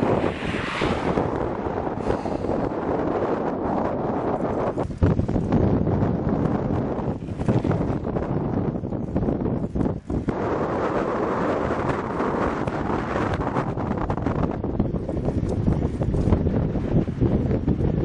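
Strong wind buffets the microphone during a bicycle ride around Lithuania, a loud, continuous roar with gusty surges and brief dips, and no other sound stands out.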